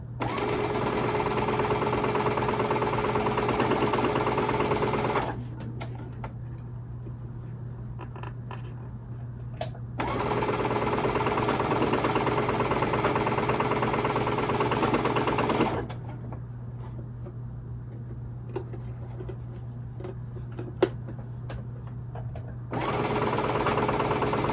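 A sewing machine runs in steady bursts while stitching the final seam of a quilt, with a constant whirring hum and short pauses between runs, close and alone.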